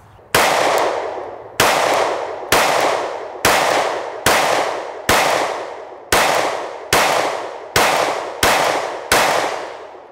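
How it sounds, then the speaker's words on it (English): Ten sharp gunshots at a steady pace, about one each second, each a loud close crack with a short ringing decay, fired at a small, dirty rubber target. "We are going to shoot the smaller target this time, the little boy rubber infinity target"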